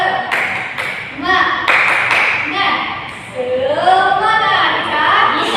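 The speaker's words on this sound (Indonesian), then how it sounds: "Kita beri tepuk semangat ya, bisa?" A classroom group performs a rhythmic clapping chant, sharp claps in short bursts mixed with children's chanting voices, fairly close and loud.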